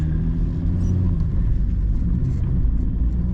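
A 1989 BMW 524td diesel car pulls away slowly, its engine giving a steady low rumble close by with no talk over it.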